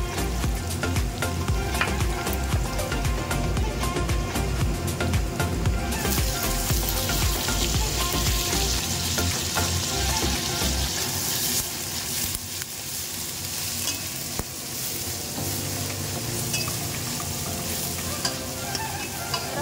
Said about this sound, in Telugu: ఫ్రై అయిపోతుంది ఉల్లిపొరక.